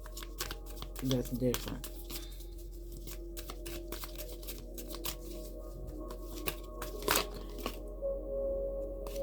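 Tarot cards being shuffled and pulled from a deck, with soft riffling, flicks and sharp little snaps scattered throughout, mostly under a person's talking.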